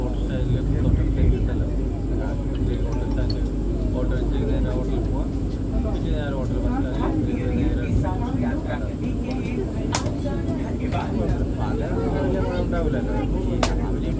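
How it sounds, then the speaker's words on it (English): WAG electric locomotive hauling a freight train out of an Indian railway platform, a constant loud rumble and rolling drone with a voice talking over it. "A Wagner powered freighter was departing from platform number 3."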